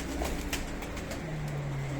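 Pigeons at a loft of ready-trained long-distance birds, with soft cooing and faint wing flutters against a steady low background hum, close by and continuous.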